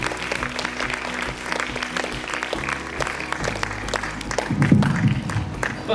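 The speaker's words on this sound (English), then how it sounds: "give them a huge round of applause" A school audience applauds finalists of a primary prose reading competition, steady clapping spread through a room over a low hum, with a swell near the end.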